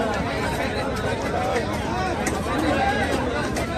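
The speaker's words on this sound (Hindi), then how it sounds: "और इधर जो है ये भीड़ देखिए, ये है सुबह के 5 बजे" Before dawn, a crowd queues outside a mutton shop, producing a steady murmur of many overlapping voices and chatter with no pauses.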